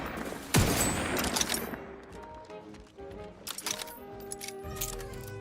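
Gunfire in The Outer Worlds 2, a sharp loud shot followed by ringing metallic clinks like spent casings, then scattered quieter impacts and game noise.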